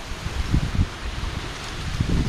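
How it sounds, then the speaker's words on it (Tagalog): Strong wind blows outdoors near a mining site and cave, making a broad rushing roar with gusty low buffeting on the microphone. No voices are heard. "Lakas ng hangin dito no?"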